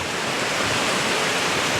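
Waterfall roaring into a valley, a steady dense broadband rush of falling water, loud and continuous throughout with no voices.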